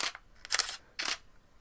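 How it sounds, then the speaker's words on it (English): A DSLR camera shutter fires three times in a row, each click a sharp, close, fairly quiet snap with brief silence between them. "An SLR shutter noise is just,"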